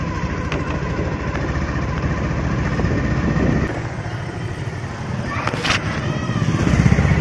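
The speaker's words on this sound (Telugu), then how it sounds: "అయితే తమ్ముళ్ళు బైక్ స్టార్ట్ చేస్తాం" A motorbike engine runs steadily and close by, a continuous droning rumble that grows slightly louder near the end, as if revving to ride off.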